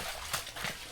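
A horse's hooves plod along a slick, muddy trail with soft, irregular clops at a moderate distance, fairly faint and with no talking.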